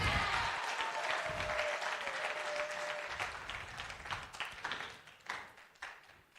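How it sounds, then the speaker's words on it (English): A class applauds a student with a burst of clapping that starts full and steady, then breaks into scattered individual claps as it dies down. "Let's give Max a round of applause."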